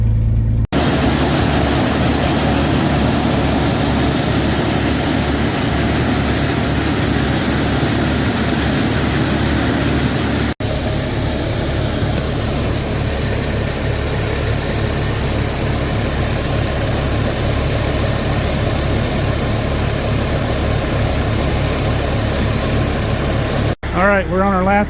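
An old Kenworth truck engine drones steadily under way, a loud continuous low rumble with cab and road noise, briefly cutting out near the end as people speak over it.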